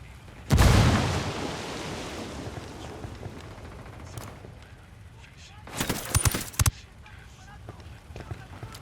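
A grenade blast in the tactical shooter game Ghost Recon Wildlands, a loud broadband burst near the start that decays slowly, followed a few seconds later by a cluster of sharp gunshots.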